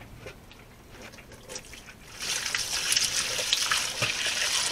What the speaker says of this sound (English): what we're going to do is pour the milk